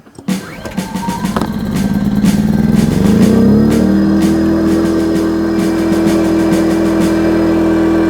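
Yamaha EF2200is inverter generator running, its engine note climbing and steadying into a higher, louder continuous drone as it enters boost mode, with faint clicks near the start.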